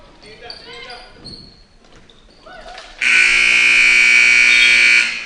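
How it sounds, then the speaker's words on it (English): A loud sustained electronic buzzer sounds at the end of a period in a girls' high school basketball game, Shoals vs West Washington, blaring steadily for about two seconds after gym chatter and crowd noise. "Nice buzzer beater there by number 23, Cassidy Wilt."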